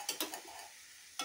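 Short quiet scrapes of a spoon stirring salted water in a metal cooking pot, three quick strokes followed by a fourth after a brief pause, with no other sound.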